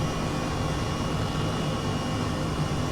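Helicopter hovering in Microsoft Flight Simulator 2020, a steady, dense turbine-and-rotor drone that stays constant and loud throughout with no clear changes.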